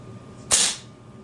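A single sharp crack from an Airforce Condor .25 caliber air rifle firing a 33.95 grain pellet, a brief loud snap with a short decaying hiss, otherwise quiet.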